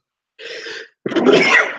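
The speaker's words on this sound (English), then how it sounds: "I'm going to sneeze, by the way." A person sneezes nearby, with a short breathy intake before the loud, explosive burst of the sneeze itself.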